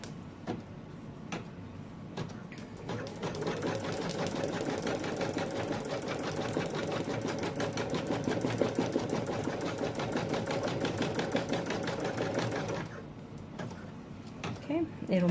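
A sewing machine runs a steady, rapid needle rhythm for about ten seconds while stitching the ears onto a monkey lovey. A few clicks come before and after the run, and a voice speaks briefly at the end.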